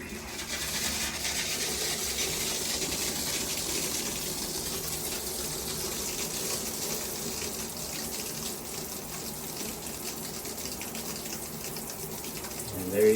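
Water sprays steadily from a handheld shower head on a wand fitted with an RV inline water filter, a continuous hissing gush at moderate volume with no talking.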